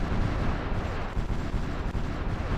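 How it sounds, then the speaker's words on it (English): Artillery bombardment at Dunkirk in the strategy game Supreme Ruler Ultimate rumbles on as a continuous, fairly faint wash of distant gunfire and low booms, with no voices. "the bombardment over here at Dunkirk is still going on"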